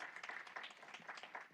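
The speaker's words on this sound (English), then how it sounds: "Give her a round of applause." Brief, faint applause from an audience at an evening Board of Education meeting, scattered hand claps blending into a soft wash under a room's distant ambience.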